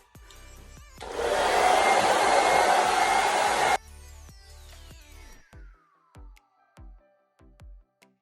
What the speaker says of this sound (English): Now I'm gonna start actually doing side-by-side diffusing.